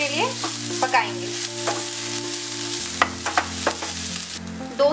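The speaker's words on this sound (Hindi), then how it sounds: "इसमें बारीक कटा हुआ शिमला मिर्च डाल देंगे और इसको भी 2 से 3 मिनट के लिए पकाएंगे" Finely chopped bell pepper fries in a pan after onions, giving a steady, close sizzle broken by scraping stirs and small clicks from the utensil.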